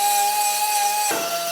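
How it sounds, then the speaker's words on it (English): A die grinder gouging out cracks in worn crane tracks to prepare them for welding, a steady high-pitched whine that drops in pitch and roughens as it bites into the steel. "So now he's just taking the die grinder and gouging out where"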